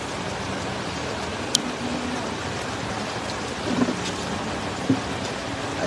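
Steady rain falling during an evening barbecue dinner in Balingasag, a continuous even hiss with a few brief louder knocks, no talk over it.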